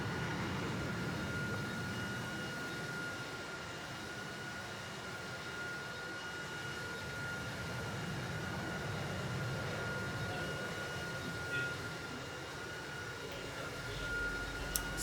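Steady aircraft engine drone from a plane making a low pass over the runway in the Roblox flight game PTFS, a continuous broad roar with a faint tonal whine, holding even throughout with no talking.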